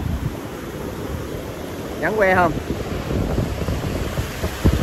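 Wind and waves at Xuyen Moc beach, a constant roar of surf with wind rumbling on the microphone, and a brief spoken question from a person midway through.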